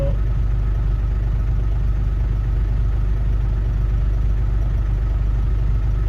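Ford Ranger T5 pickup engine idling steadily with a low, constant rumble and even hum, close and unbroken throughout with no voices.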